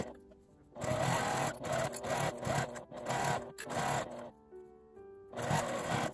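A sewing machine stitches a 5 mm seam allowance on fabric for a coin-through wallet bag, running in close, loud bursts with several short stops and restarts.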